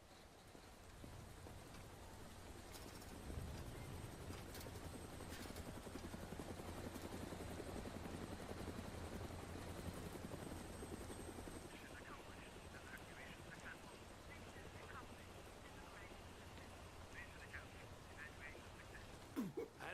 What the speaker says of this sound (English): What's the helicopter doing?